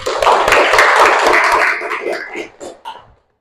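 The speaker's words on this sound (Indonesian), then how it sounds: "tepuk tangan dulu" A primary school class of fifth graders claps hands together in a classroom, a burst of brisk mixed clapping that thins out into a few scattered final claps before stopping.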